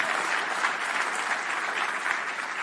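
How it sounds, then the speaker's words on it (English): A hotel conference audience gives a big round of applause, even and continuous clapping from many hands at moderate distance, with no talking. "everyone give a big round of applause to Mike,"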